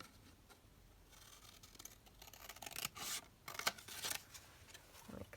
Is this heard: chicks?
no